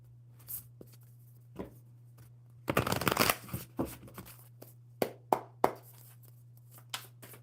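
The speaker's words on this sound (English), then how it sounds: "One more good shuffle." Tarot cards being shuffled up close: scattered taps and riffles, then a burst of rapid flutter, followed by a few sharp snaps, over a low steady hum.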